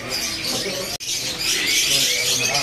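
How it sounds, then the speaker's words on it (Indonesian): Canaries of the kenari loper type chirp and twitter together in a crowded bird shop, a dense, continuous chorus of overlapping calls with one brief cutout partway through. "Di sini juga ada burung kenari loper cerahnya teman-teman ya."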